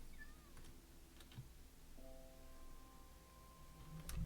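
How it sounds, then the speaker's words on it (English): A cat meows in the Minecraft video game, a couple of faint, short calls over a quiet game background, with soft clicking and no one talking. "I saw a cat I don't remember seeing before"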